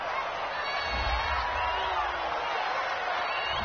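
A home stadium crowd in the Madden 20 football video game, a dense, steady roar of cheering that fills the whole moment without a break.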